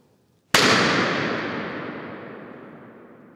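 A single balloon bursts with a sharp crack in a large reverberant cathedral, its echo filling the space and slowly fading over about three seconds.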